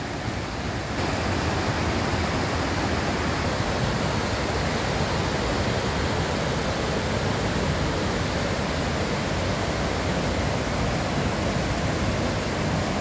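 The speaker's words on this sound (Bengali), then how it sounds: "ঝর্ণার কুলকুল শব্দ নিশ্চয়ই তোমরা শুনতে পাচ্ছ।" Lodh Falls in the hills of Jharkhand, a loud, continuous broadband rush of falling water, steady and unbroken from start to finish.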